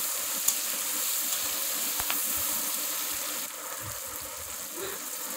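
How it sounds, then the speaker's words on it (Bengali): Shrimp and onions fry together in a pan for a ridge gourd shrimp dish, with a quiet, steady sizzle and hiss, plus a few faint clicks and small bumps scattered through it. "চিংড়ি মাছ, পেঁয়াজের সাথে একসাথে ভেজে নেব।"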